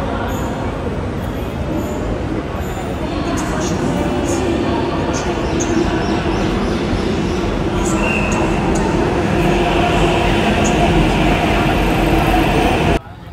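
A Hyderabad metro train moving, a loud steady rumbling rush close by with faint high squealing tones above it, continuing throughout.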